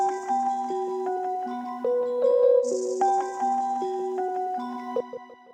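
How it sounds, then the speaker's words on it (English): Layered violins, gamelan and Rhodes piano in a grimy boom bap beat, playing stepped melodic phrases with sustained tones and a bright upper shimmer, clear and fairly loud with no voices. "So with the violins, the Gamelan, and the Rhodes, it sounds like this."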